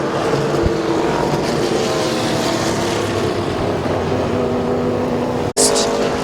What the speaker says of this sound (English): Green flag is out as they're shifting gears going into turn number 1